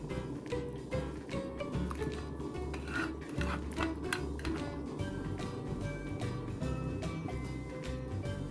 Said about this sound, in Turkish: Ve nihayetinde hazırladığımız sosumuzu çorbamıza ilave edelim.